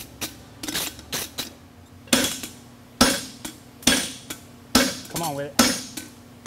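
A blacksmith hammers a hind draft horseshoe on the round side of an anvil horn. Sharp, ringing metal strikes come in an uneven rhythm, about a dozen close blows, with a brief spoken phrase between them.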